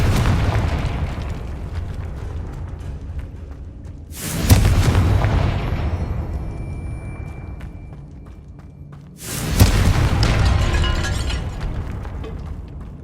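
Confringo blasting spell in the video game Hogwarts Legacy, two heavy booming explosions several seconds apart, each a sharp loud burst fading into a long rumbling tail.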